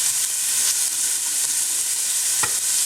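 Saffron and black pepper sweating in a pan for a seafood risotto, a steady close sizzle and hiss running throughout with a faint stir or scrape near the end, no voices.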